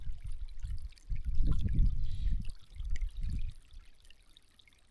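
Spring water trickling and pouring close by on a Helvellyn mountain route, a steady liquid splash that swells and eases in uneven bursts, with no talk over it.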